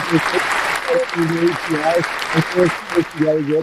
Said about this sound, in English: Round of applause for Jordan seeing opening day